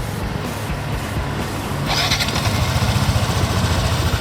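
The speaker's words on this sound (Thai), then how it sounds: "ลองฟังเสียงเครื่องยนต์เลยครับ" A 2016 Yamaha NMAX fuel-injected scooter engine, stock and well kept, cranks and catches about halfway through, then settles into a loud, steady idle with a rapid, regular putter, recorded up close.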